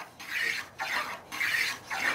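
Block hand plane rounding over a sharp wooden edge, four quick rasping shaving strokes in a steady rhythm, close and clear with no talking.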